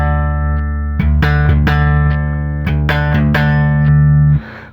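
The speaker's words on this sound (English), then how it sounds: "This is just a regular non-active bass." A passive five-string bass guitar plays deep sustained notes, each with a soft plucked attack. The notes come in a loose sequence, ring steadily, and then cut off near the end.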